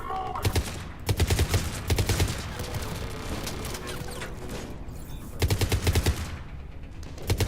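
The player's weapon fires in the video game Mass Effect 3, sending out loud, rapid bursts of automatic gunfire that start and stop in several volleys over a continuous background of combat noise.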